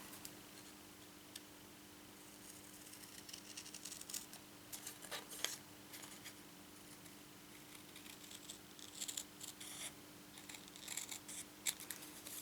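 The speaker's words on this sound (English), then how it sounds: "Let's use some big scissors." Big scissors cut through card for a handmade birthday shaker card, making quiet, irregular snips and clicks that come in clusters over a low background hum.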